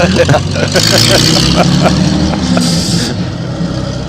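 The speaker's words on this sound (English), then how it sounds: "Got Steve Gondringer coming up in a pre-1960s truck." A pre-1960s truck rolls by in a parade, its engine a loud, steady rumble with small surges and chatter, close by and dominating the street noise.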